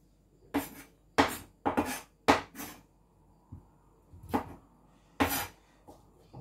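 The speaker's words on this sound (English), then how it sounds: "Just cutting my onion right now." An onion is chopped with a knife on a board for Jamaican-style vegetable chow mein, giving about eight crisp, separate cutting thuds in uneven bursts with quiet pauses between, close and fairly loud, with no speech.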